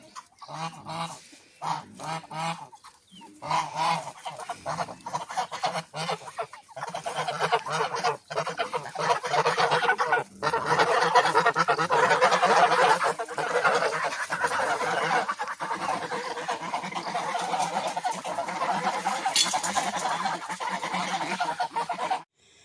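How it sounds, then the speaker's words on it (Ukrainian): A flock of geese honks continuously for over twenty seconds, loud and close, with dense overlapping calls and no pauses. "Гуся, гуся, гуся."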